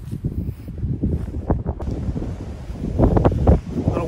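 Gusty wind on a golf course buffets the microphone in low rumbling bursts, uneven and close, with no talking.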